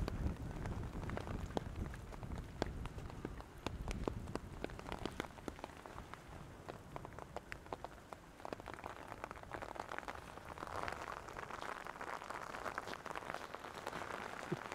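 Steady rain falling at a ruined abbey in Waterford, Ireland, a dense, even patter of drops on stone and ground that continues throughout, moderately close, with no voices.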